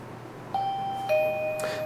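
Motion-sensing owl driveway alarm chiming: two clear electronic tones ring out in quick succession, the second overlapping the first, close and fairly loud over a quiet hum.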